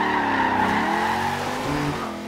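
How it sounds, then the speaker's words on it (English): A V8-swapped 2015 Volvo S60 Polestar drifting in the video game Forza Horizon 2, its engine droning loud and steady with tire squeal layered over it, sliding pitch changes throughout, no talk. "Sound of that V8."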